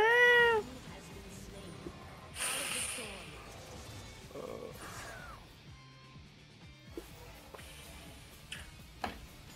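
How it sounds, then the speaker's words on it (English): A house cat meows several times in a rising, wavering call near the start, loud and close, then the room settles into quieter background noise with a few faint ticks and knocks. "my cat was meowing"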